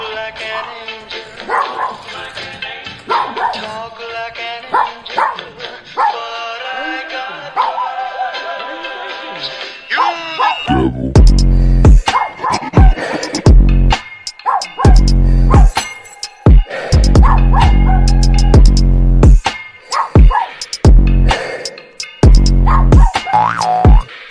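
A dog barks in a series of loud, rapid, clipped bursts during the second half, following a stretch of people talking over one another.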